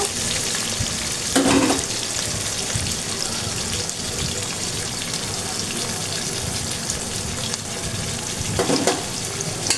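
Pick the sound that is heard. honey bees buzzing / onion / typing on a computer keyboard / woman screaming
onion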